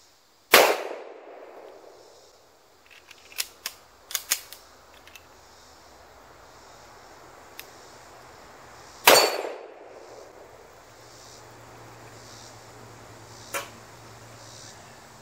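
A Sig Sauer 1911 pistol fired outdoors: two loud, sharp gunshots several seconds apart, each with a ringing tail, separated by lighter metallic clicks and clanks, with no talking.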